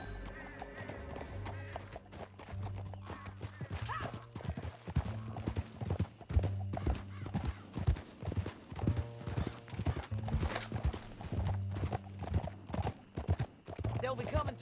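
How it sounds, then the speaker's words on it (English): Hooves of a horse in Red Dead Redemption 2 clop in a steady galloping rhythm, close and clear throughout, with an occasional whinny and a voice speaking briefly over the hoofbeats. "Back on your horse, let's get after them."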